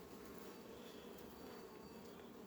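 Honey bees hum steadily around an open hive during late-July preparation of colonies for winter, a dense, continuous close buzz throughout with no voices.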